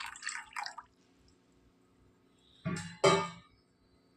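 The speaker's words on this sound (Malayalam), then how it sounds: "ഉലുവയിലേക്ക് അതുപോലെ തന്നെ ഉലുവ കുതിരാൻ ആവശ്യമായ വെള്ളം ഒഴിച്ച് വയ്ക്കാം." Water is poured over fenugreek seeds in a small container for soaking: a few faint drips, a pause, then two short close splashing pours.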